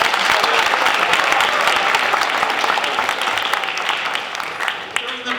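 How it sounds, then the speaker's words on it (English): Student poets and audience at a school poetry recitation event applaud together, a dense, continuous crowd clapping heard close and loud, slowly tapering toward the end, with some murmured voices underneath. "So can you give yourselves a round of applause?"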